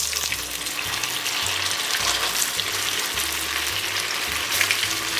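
Bread rolls deep fry in hot oil, a constant close bubbling sizzle with light stirring and occasional low clunks beneath it.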